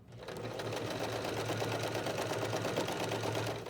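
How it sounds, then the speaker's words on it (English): A sewing machine stitches a quarter-inch seam in one continuous, fast, rhythmic whir of needle strokes, close and steady for a few seconds with no talking. "I'm going to sew 1/4 of an inch."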